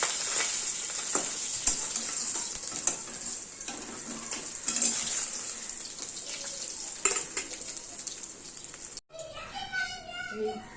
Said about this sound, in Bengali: সর্ষের মাছটা একটু লাল লাল করে ভাজতে হবে